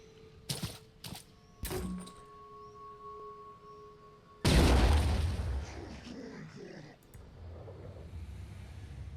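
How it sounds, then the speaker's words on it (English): Grenades go off in the turn-based game Phoenix Point; a few sharp clicks give way to a sudden heavy blast that rumbles and fades over several seconds, followed by a fainter second burst. "we're going to start sending grenades here"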